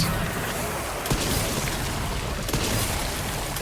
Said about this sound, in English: we're going to keep unloading shotgun